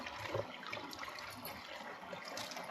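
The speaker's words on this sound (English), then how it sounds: "Look, it's actually like bubbling like a spa. There's a pump going." Water bubbling and churning from a pump in an outback spring pool, a steady noisy wash with no pauses, close by.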